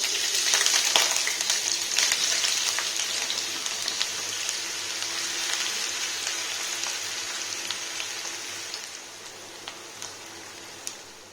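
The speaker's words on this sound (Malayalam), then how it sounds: "പാനിൽ കുറച്ച് ഓയിൽ ഒഴിച്ച് അതിലേക്ക് നൈസായിട്ട് അരിഞ്ഞിട്ടുള്ള ഉള്ളി ഇട്ടിട്ട് നന്നായിട്ടൊന്ന് വറുത്തെടുക്കാം" Finely sliced onions frying in oil in a pan for biryani, a dense steady sizzle with scattered crackling pops that fades slightly over time.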